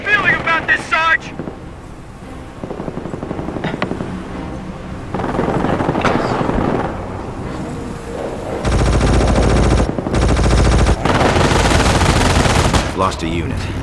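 Sustained infantry gunfire in a Company of Heroes Far East mod battle, with loud machine-gun bursts and rifle volleys rattling continuously over wind-like battlefield noise and scattered voices.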